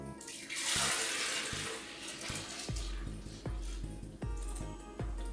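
Rum pours into a coquito mixture in a kitchen as a steady liquid stream splashing into a container, followed by a few soft clinks and knocks.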